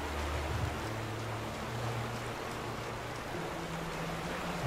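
Steady, loud rushing water in the game The Vanishing of Ethan Carter, a continuous broadband roar with a low droning hum underneath and no talking.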